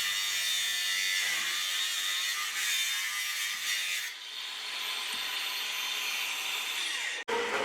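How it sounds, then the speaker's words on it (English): A loud, continuous, harsh cutting whine from an angle grinder slicing the tail off a metal housing on an Austin Mini project car, steady for several seconds, with no talking. "lopping the tail off with the angle grinder"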